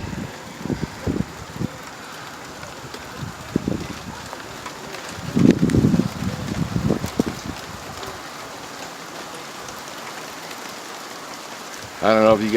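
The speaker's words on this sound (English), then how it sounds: "And it keeps raining like this." Heavy rain pours down outdoors during a thunderstorm, a steady wash of drops with wind buffeting the microphone in bursts and some handling noise near the end.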